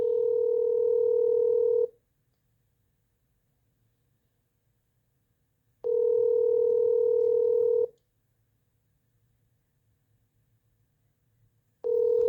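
Telephone ringback tone heard while a call goes unanswered: steady two-second bursts of tone with about four seconds of silence between, repeating evenly and loud, with no talking.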